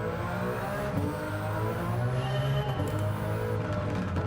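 A Toyota 86 GT Limited with a swapped-in, fully upgraded 2JZ engine laps a circuit in Gran Turismo 7, its loud engine holding a steady, close, continuous drone with no talking.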